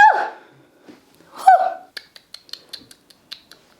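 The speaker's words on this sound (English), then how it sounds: "I need to sneeze." A person sneezes loudly and nearby, with two sharp vocal bursts followed by a string of small clicks and snaps.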